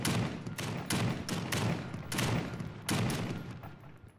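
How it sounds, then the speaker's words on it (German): Gunfire in the video game The Front, a rapid series of loud, close bursts of shots coming every half second or so, each sharp crack trailing off briefly. "Ich wollte das gerade auf den Tank schießen."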